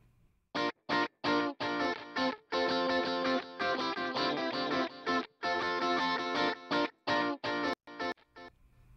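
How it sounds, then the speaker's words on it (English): Electric guitar played through a rhythmic delay plugin in a mix, delivering choppy, gated bursts of distorted chords in a stuttering pulse, close and upfront with no voices. "setting up a nice little rhythmic delay on it"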